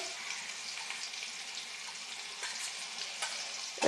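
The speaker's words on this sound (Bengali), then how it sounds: "এটা একটু লাল লাল করে ভেজে নিচ্ছি। রসুনটা।" Crushed garlic frying in a pan while being browned for a taro flower ghonto, a soft continuous hiss and sizzle at low level with faint stirring, ending in a brief louder clatter.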